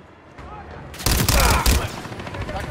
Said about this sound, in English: got a mounted MG coming your way on an armored vehicle